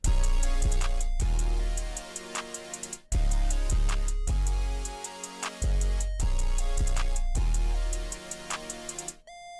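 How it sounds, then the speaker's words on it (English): A screaming synth lead made in Serum carries the main melody of a beat, bright and sustained over heavy low bass hits in a steady rhythmic pattern, loud and alone. "with a screamer also for the main melody"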